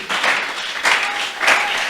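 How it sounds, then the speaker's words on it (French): A church congregation applauds the Lord in loud, rolling waves of clapping that swell three times, with faint voices mixed in. "Est-ce que vous acclamez le Seigneur?"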